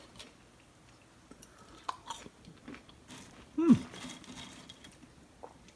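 Someone bites and chews crunchy fries cooked in a Chefman air fryer, a few close, crisp crunches spread irregularly over several seconds with no talk.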